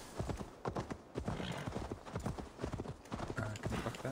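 Horse hooves gallop in a steady, rapid clip-clop rhythm throughout, loud and close, as a mount is ridden in the video game Assassin's Creed Valhalla.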